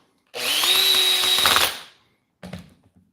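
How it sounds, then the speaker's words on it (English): An old brushed Makita power drill with a big motor spins up sharply, whines steadily for about a second and a half, then winds down, followed by a short second burst; close and loud with no talking. "I've never really been a lover of these kind of drills, these old brushed ones."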